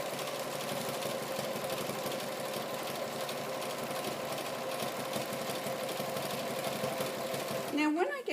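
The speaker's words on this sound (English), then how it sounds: "now I'm going to zigzag stitch that center seam" A sewing machine runs steadily for about eight seconds as it zigzag stitches the center seam of a strip tote, a continuous motor whir with a busy stitching texture that stops abruptly near the end.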